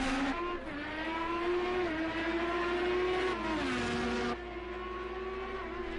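Open-wheel IndyCar engines from the Project IndyCar racing game drone at high pitch in a loud, continuous whine that rises and falls through gear changes, with several cars close together and no talking.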